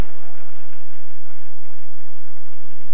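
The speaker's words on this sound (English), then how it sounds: "Please, shall we clap for the convocation lecturer?" Audience applause at a university convocation ceremony for the convocation lecturer, a steady dense wash of clapping filling the hall for a few seconds, loud and continuous with no talk.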